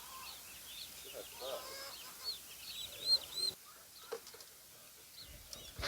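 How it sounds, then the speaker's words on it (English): Turkey poults in a brooder box give faint, high peeping chirps, scattered and soft against quiet background noise. "So she's showing them where the water is as she takes them out and being very gentle."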